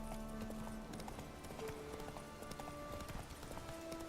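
Roach, a horse in The Witcher video game, galloping with rapid rhythmic hoofbeats that clatter close and loud, joined by scattered short tonal game sound effects over a steady mix.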